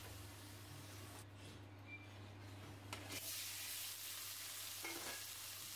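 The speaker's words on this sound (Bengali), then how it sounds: "এবার ওই তেলের মধ্যেই চিংড়ি মাছগুলো অল্প একটু হালকা করে ভেজে নিয়েছি" Prawns fry lightly in a little oil left over from frying potatoes. A soft, steady sizzle swells louder midway, with faint stirring scrapes and a low background hum, no voices.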